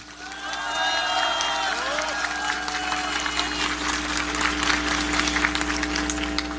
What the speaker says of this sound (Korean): 따뜻한 박수 부탁드립니다